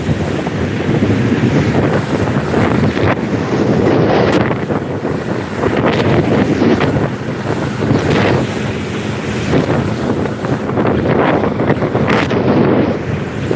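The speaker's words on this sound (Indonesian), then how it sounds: "anginnya kencang sekali" Strong, constant wind roars and buffets the microphone while riding on the back of a moving truck, a loud continuous rush with no clear pauses.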